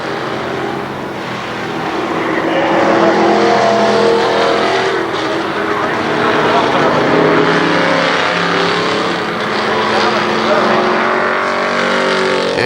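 Race cars roar around KilKare Speedway during the Labor Day Championships as the leader takes the white flag, engines droning loudly and steadily with passing surges while an announcer talks over them.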